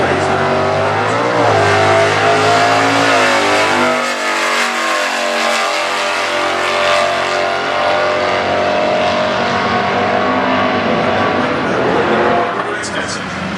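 A 1963 Dodge race car with a 383 big block engine roars loudly and steadily at a stock class drag racing event, its engine droning throughout with a brief dip, while a voice speaks over it.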